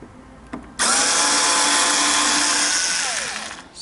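A power tool removes screws from the front of a Citycom 300i scooter, starting abruptly into a loud, steady high-pitched whir that holds for about three seconds before winding down.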